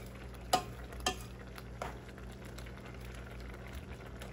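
Ramen curry is stirred in a pot with three sharp utensil knocks against the metal early on, then soft scraping and mixing over a quiet, low simmering background.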